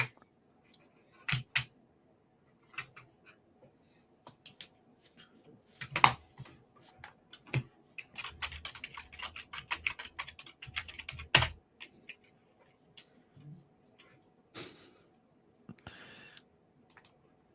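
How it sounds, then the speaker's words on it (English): Computer keyboard typing is heard in scattered bursts of sharp clicks with quiet pauses between them, close and fairly crisp. "that clicking sound"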